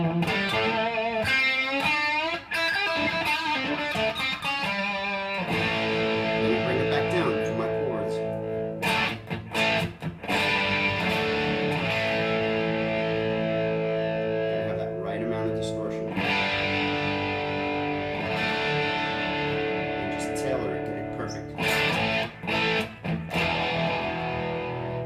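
Electric guitar played through a TS9 overdrive with the boost cranked to 10, giving a thick, saturated rock tone with sustained chords and lead notes ringing loud and continuous, with a few brief pauses between phrases.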